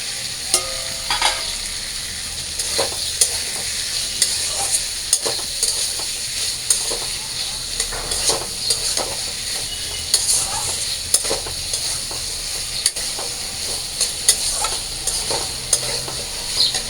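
Spiced vegetables frying in a pan as tomatoes go in, a steady close sizzle under repeated spatula scrapes and clicks at an even rhythm, with no voices.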